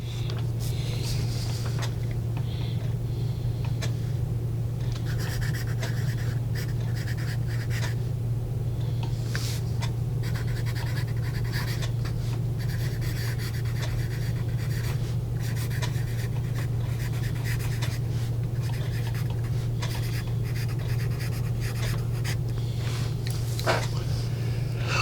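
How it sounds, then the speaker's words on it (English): A vintage Statesmen #2 graphite pencil scratches across paper in a continuous run of soft, dry strokes, close and faint beneath a constant low electrical hum. "you can hear the graphite on the page"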